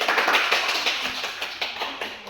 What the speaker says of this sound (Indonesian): Berikan aplaus untuk Fitri.